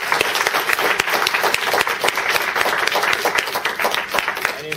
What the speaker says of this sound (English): If everyone, round of applause.